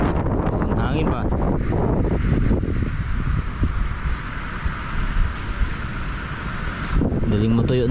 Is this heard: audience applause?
no